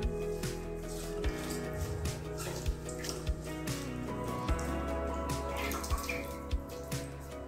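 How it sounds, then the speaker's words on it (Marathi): Fresh fenugreek leaves being washed by hand in a bowl of water, with steady splashing and sloshing and repeated soft knocks against the bowl, close and fairly loud, no talking. "ही मेथी 2 ते 3 वेळा पाण्याने स्वच्छ धुवून घ्यायची आहे।"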